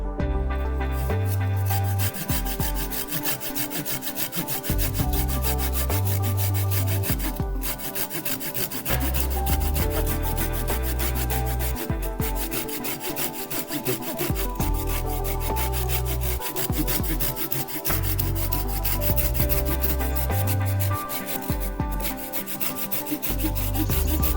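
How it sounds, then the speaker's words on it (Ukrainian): Steady back-and-forth sawing with a Felco 602 folding pruning saw through a large wooden branch, a rhythmic rasping stroke after stroke, close and continuous with no talking. "Ну а зараз подивимося, як ця пилка ріже дерево."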